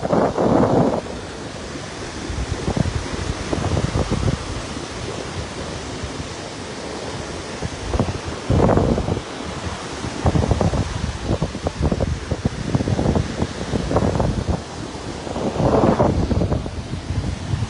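Sea waves at Sakumono beach break and wash ashore in repeated surges, a steady rushing roar that swells loudly every few seconds.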